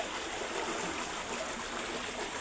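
Water flowing steadily through a flooded area, a continuous close rushing and trickling wash with no pauses and no voices.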